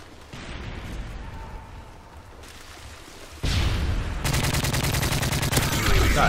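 Rapid gunfire from a hardcore free-for-all match in Call of Duty: Modern Warfare 3, with bursts of shots growing louder and denser in the second half, close and continuous.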